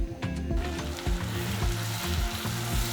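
Chopped peppers and locust beans (iru) sizzle loudly in a pot for a Nigerian vegetable soup, with repeated scraping stirs and low clunks of the spoon against the pot, close and continuous, no voices.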